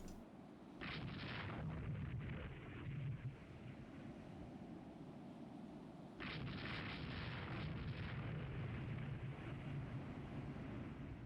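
Naval gunfire from warships in the Great War era naval strategy game Rule the Waves 3, with central firing control: two heavy, booming salvos roll out over a steady, wash-like roar, each lingering for several seconds.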